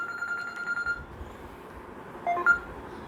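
A mobile phone rings in a classroom during a physics lecture on the cyclotron, with a steady ringtone at moderate volume and a few short electronic beeps near the end.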